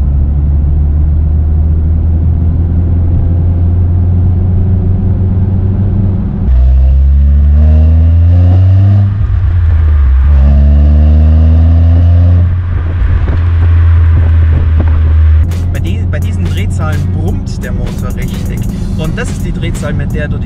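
Alfa Romeo 147 with a 1.6 four-cylinder engine, heard from inside, holds a steady low drone, then revs up and eases back twice around 2500 rpm before settling into a lighter hum, with brief voice-like sounds in places.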